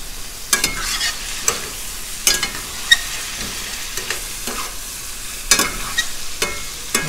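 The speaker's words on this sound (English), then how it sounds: "So just keep stirring it. I'm using medium heat." Shrimp frying in a pan over medium heat, stirred with repeated scraping strokes over a soft, steady sizzle, close and fairly quiet with no talking.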